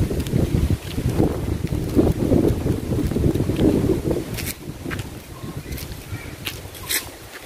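Strong wind buffets the microphone at the rocky Laem Khok Kwang seaside viewpoint in Chumphon, Thailand, among many trees and leaves, a steady close roar with low gusty rumble and a few faint rustles, no talk.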